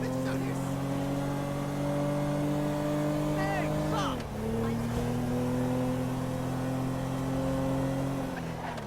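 A car speeding through a police chase in GTA 5, its engine holding a loud steady drone, dipping briefly mid-way with a gear change and then pulling again, while people talk over it.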